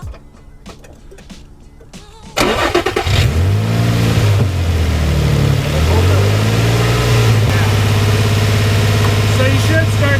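A Nissan 350Z's VQ35DE engine cranks and catches after a brief stretch of background noise, then runs loud and close, its revs rising and falling a couple of times before settling at a steady held speed of about 2,000 RPM.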